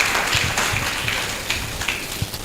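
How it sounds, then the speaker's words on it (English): Audience at a health sector joint annual review clapping, a loose scatter of individual hand claps over room noise, moderately loud and uneven rather than a full ovation. "Please, no, clap properly."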